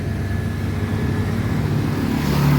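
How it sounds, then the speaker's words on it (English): A motorcycle passes on a road near the Johor Bahru border crossing, a steady engine drone over traffic rumble that swells slightly toward the end. "wait for this motorcycle to pass by first"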